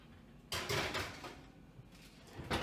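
A sourdough loaf in its pan going into a home oven: a sharp metallic clatter and rattle of the oven door and rack, a quieter lull, then another clunk near the end, no talk.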